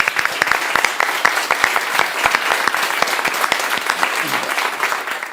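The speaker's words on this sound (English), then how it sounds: "I want to give a clap for Matu." Studio audience at a Dota 2 esports grand final applauding, loud, close and dense clapping with sharp individual claps sustained throughout, a few voices faintly mixed in.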